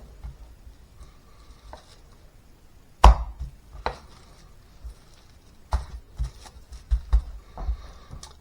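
A sharp knife cutting and trimming raw chicken on a board for chicken cordon bleu, giving a few close, distinct chops and thuds spaced irregularly across a quiet kitchen.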